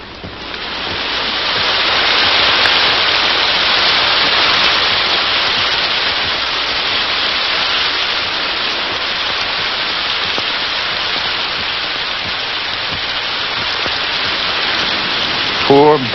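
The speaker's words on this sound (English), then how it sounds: "But over the sound of the rain, he seems to hear the breakers from beyond the dunes." Steady, dense hiss of heavy rain pouring through a storm at night, continuous and loud for the whole stretch with a faint low rumble of distant breakers beneath it.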